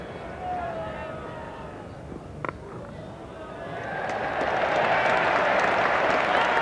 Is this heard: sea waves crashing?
no